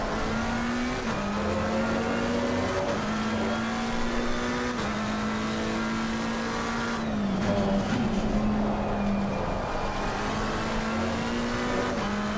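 McLaren 720S race car engine in the racing game Assetto Corsa Competizione, a steady loud droning note holding through the clip with slight pitch dips and rises as the revs shift, no talk.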